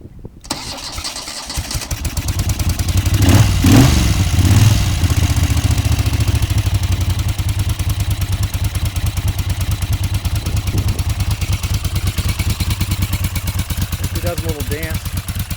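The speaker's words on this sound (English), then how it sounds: "she makes a nice Guzzi sound, and these cone filters make a kind of a sucker noise" Moto Guzzi motorcycle with cone air filters cranks and starts, then settles into a loud, close, steady lumpy idle with a rhythmic pulsing exhaust beat that continues to the end.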